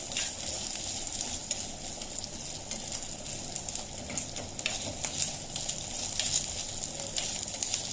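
Coconut pieces roasting in a pan for a black chickpea curry, a continuous crackling sizzle with occasional scrapes of stirring, steady and close throughout with no talking.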